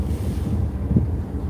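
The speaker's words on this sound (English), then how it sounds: "running, propellers are just running to keep us stable, I'm guessing." A ship's engine and propellers turning steadily at sea to hold the vessel stable, heard as a low, constant droning rumble mixed with wind and water wash, with no talking.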